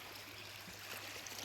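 A stream on a farm babbles and trickles steadily, a faint continuous wash of water with no pauses and no voices.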